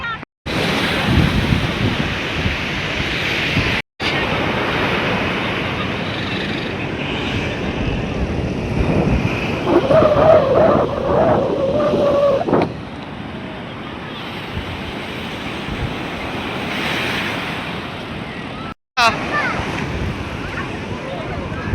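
Sea waves break on the shore in a steady, continuous roar of surf, with wind buffeting the microphone and a few brief dropouts, while faint voices sound in the background.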